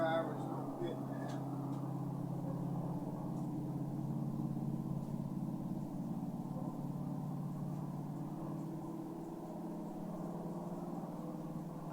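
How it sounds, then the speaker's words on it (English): A truck engine strains and drags its way up a hill in the distance, a steady low rumble that holds at an even, moderate level for the whole stretch with no voices over it. "He can't barely get up the hill. That truck is just dragging."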